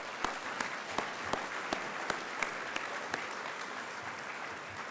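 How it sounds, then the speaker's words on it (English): Audience applause at an evening celebration keynote in honor of a civil rights leader, a soft, distant wash of clapping with a few sharper individual claps standing out at a roughly regular pace. "that is worthy of a moment of applause here tonight as well"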